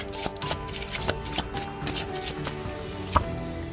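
Tarot cards are shuffled and drawn by hand, giving soft repeated riffling taps and flicks over a few seconds, close and fairly quiet, with faint background music.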